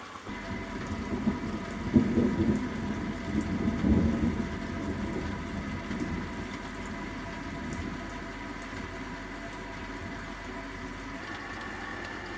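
A heavy electrical thunderstorm over the Ardèche brings steady, loud rain and deep rolling rumbles of thunder that swell early on. The rain then settles into a continuous downpour.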